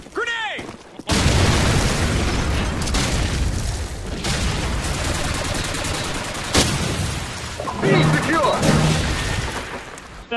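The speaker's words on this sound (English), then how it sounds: "Grenade!" Loud video-game grenade blast opening a dense firefight in a competitive team domination match, with booming explosions and bursts of gunfire continuing throughout; players talk over the action.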